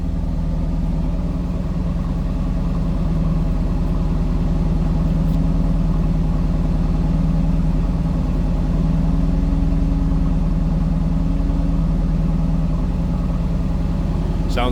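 A 1983 Chevrolet Camaro Z28 HO convertible idling from behind, a steady, deep throaty exhaust rumble that holds evenly and fairly loud throughout, with no talking.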